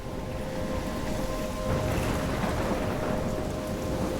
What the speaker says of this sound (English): How did she get into this storm?